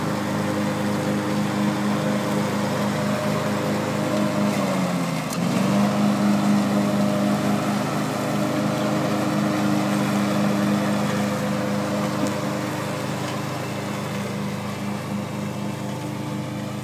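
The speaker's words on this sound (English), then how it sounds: "grandma on the tractor, cutting the grass." A riding tractor mower cutting grass, its engine droning steadily and close for the whole stretch, with a brief dip and recovery in pitch midway as the load shifts.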